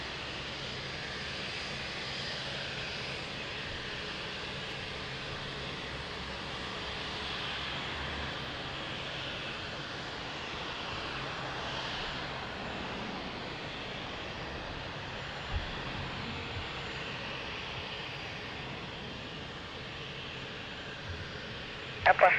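An airliner lands at Lisbon Airport, heard as a steady, distant jet engine roar that lasts the whole stretch and ends with a brief clatter.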